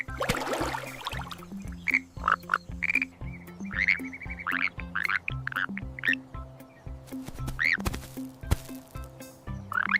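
Frogs croak steadily in a dense chorus, rhythmic low pulsing calls layered with higher repeated croaks, close and continuous throughout.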